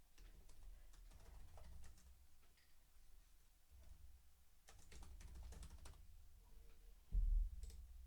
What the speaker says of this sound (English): And then I can type in.